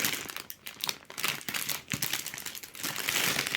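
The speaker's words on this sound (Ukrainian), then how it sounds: "Далі треба виспати другий пакет." Continuous crinkling of a plastic bag with small hard Lego pieces rattling inside, close and busy, with no talking.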